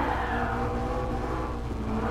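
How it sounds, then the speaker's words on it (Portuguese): Biturbo 3.8 V8 of a McLaren 650S in the video game GT Sport, a steady loud engine drone held at constant revs from the cockpit view. "Deixei vocês a vir ouvir o V8 então, biturbo aqui."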